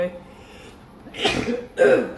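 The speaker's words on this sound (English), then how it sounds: "that was a sneeze by the way" A single short sneeze bursts out after a brief pause, followed by a dry-throated, throat-clearing rasp, close and fairly loud.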